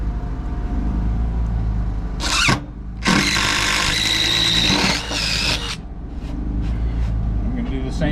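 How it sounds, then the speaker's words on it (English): A power drill whirs in two bursts, a short one and then a longer grinding run into poplar wood, close and loud over a low background rumble. "I'm just going to drill a hole in one of these corners."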